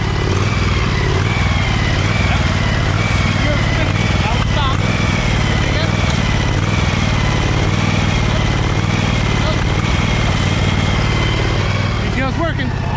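Husqvarna 2346XLS hydrostatic lawn tractor engine running with the PTO engaged, a steady close engine drone with rumbling low harmonics throughout, under occasional speech.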